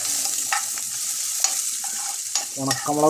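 Small shallots sizzle in hot oil while being stirred to temper a camel curry. A close, bright frying hiss runs throughout, with scraping stir strokes and a short tonal clatter near the end.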